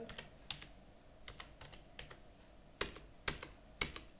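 Typing on a computer keyboard while entering a check number into accounting software: a handful of crisp, close keystrokes in sparse, uneven bursts, with a few sharper final taps and no talking.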